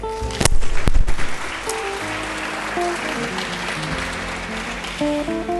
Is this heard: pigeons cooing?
no